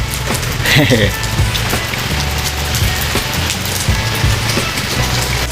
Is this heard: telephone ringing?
no